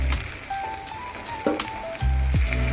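Potatoes dropped into a hot oiled pan set off a steady sizzle and crackle of frying, with a couple of thuds and clatters as they land and shift, close and fairly loud, no talk.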